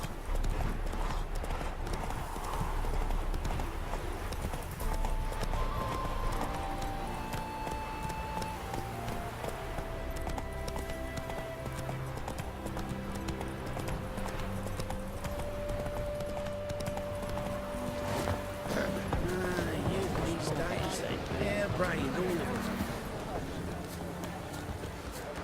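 Horse hooves gallop in a steady, rapid clip-clop in The Witcher 3: Wild Hunt, continuous and close, under game music and spoken dialogue.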